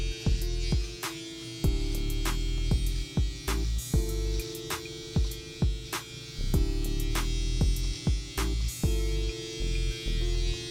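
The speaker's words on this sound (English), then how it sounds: "And I want to go up with the trimmer here." Electric hair trimmer buzzing continuously at close range during a fade haircut, a steady high hum broken by repeated short clicks and slight pitch shifts as it works along the hair.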